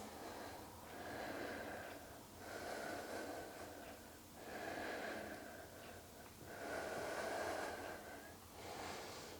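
During a heart-opening yoga flow, deep rhythmic breaths come and go in slow waves, about four long inhale-exhale cycles, close and fairly soft, with no speech.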